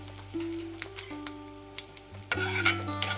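Asafoetida is added to hot coconut oil with fenugreek while making raw mango methamba, and it sizzles steadily under a spoon scraping and stirring in the pan, with a louder burst of frying near the end.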